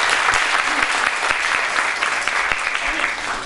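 Dense, steady audience applause at a youth award ceremony in Sultangazi, loud and continuous throughout with a few sharper individual claps standing out.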